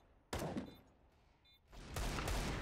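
Gunfire in a video game: two loud bursts of shots, the first sharp and short, the second a longer crackling volley, separated by a quieter gap.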